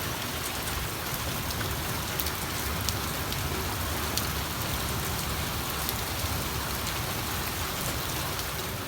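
Steady rain falls outside, a dense even hiss of drops on surfaces with occasional louder patters, continuous and fairly close throughout.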